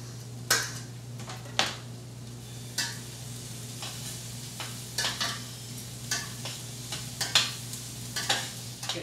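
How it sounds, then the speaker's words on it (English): Chopped garlic stirred into an artichoke dip mixture in a bowl, giving irregular soft scraping and clinking strokes, a dozen or so spaced bursts over a steady low hum, close and fairly quiet with no talk. "So my garlic is chopped up, now I'm going to add it to the mixture."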